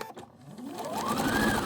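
A sewing machine stitches fabric, its motor whirring up to a steady, rising hum with a fast rhythmic needle chatter, loud and close.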